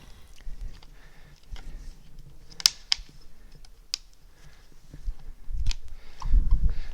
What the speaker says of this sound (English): attach the tap to the elbow on the wall, just let the thread find itself in the wall elbow and then turn it clockwise